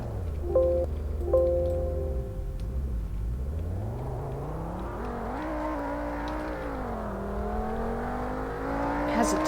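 A six-speed manual car in the Roblox game Greenville revs up through a gear shift and climbs steadily in pitch as it accelerates toward top speed, a loud continuous engine drone.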